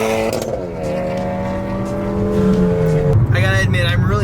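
A Mitsubishi Evo X with a straight-piped single-exit exhaust revs loud and close, its raspy tone holding, sagging, then climbing again in a sharp rev.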